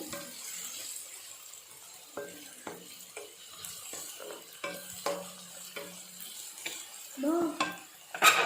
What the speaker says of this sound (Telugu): ఇది పచ్చివాసన పోయేదాకా వేపుకొని మనం ఉడకపెట్టుకున్న చికెన్ని దీంట్లో వేసేద్దాము.